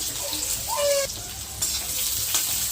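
Onions and fenugreek seeds sizzle in hot oil with a red chilli for a crispy kasarakaya (bitter gourd) tempering, a steady close hiss with a few brief clinks, no talk.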